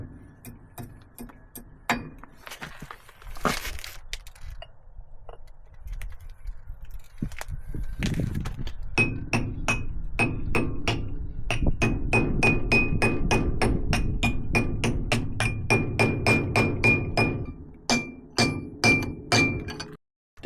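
Hammer tapping a dust cap onto the front disc brake hub of a 1969 Chevy C20 pickup, a long series of sharp metallic knocks, sparse at first, then a rapid steady run, close and without talk.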